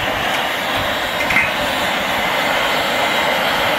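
Muka camping stove burner roaring under a stainless steel pot of boiling water: a steady, loud, broadband roar that holds unchanged throughout, with no voices.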